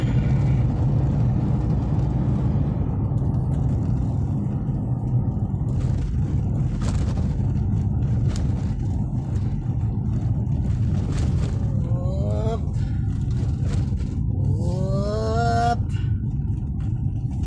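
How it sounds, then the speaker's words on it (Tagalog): Road traffic heading toward Calamba, heard from inside a moving vehicle: a steady engine and road rumble throughout, with a few horn blasts near the end and scattered passing noises. "Wow, traffic sa papuntang Kalamba."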